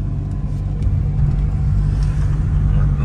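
A car engine hums with a steady low rumble as the learner driver holds the throttle during a driving lesson, continuous and fairly loud with no talk over it.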